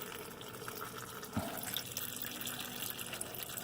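Transmission fluid draining from a car's pan onto a driveway, a faint steady trickle and pour of liquid with a brief splash, quiet and continuous with no voices.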